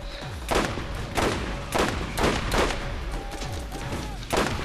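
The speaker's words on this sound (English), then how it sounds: "Don't worry, I'm shooting him in the face." Repeated gunshots in the video game Borderlands, roughly six sharp blasts spaced about half a second to a second apart, loud and near, with booming tails over a constant background.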